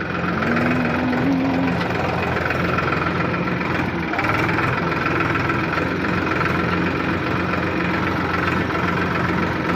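A loud tractor engine drones steadily throughout, a close, rumbling mechanical hum with a constant tone and no pauses or speech.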